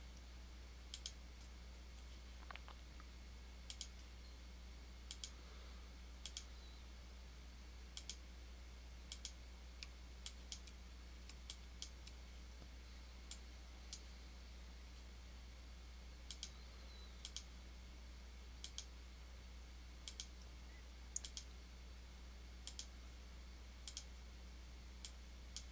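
Computer mouse clicking in a quiet room, sharp isolated clicks scattered irregularly at close range over a low steady hum.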